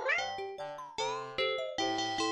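A cat meows repeatedly in close, loud, drawn-out tonal calls, several in a row with short breaks, with no talking over them.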